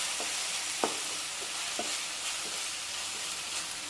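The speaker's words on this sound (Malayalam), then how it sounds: "ഇതൊന്ന് നല്ലപോലെ വഴറ്റിയെടുക്കണം." Sliced onions sizzle softly in a hot pan for mushroom masala, a steady frying hiss punctuated by several distinct scraping taps of a stirring spoon.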